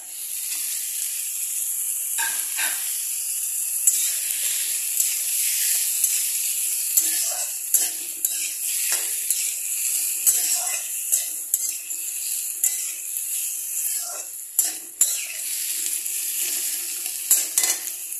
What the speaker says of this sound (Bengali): এই আলু আর মটরশুঁটি।